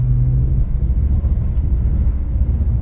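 A BMW E46 with rear-wheel drive slides through snow in a drift, its engine a loud, close, steady low rumble without any voices.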